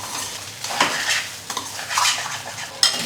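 Millet upma stirred in a heavy-bottomed pan on low flame, with soft scraping strokes and utensil clinks over a faint sizzle and a sharp metallic tap near the end.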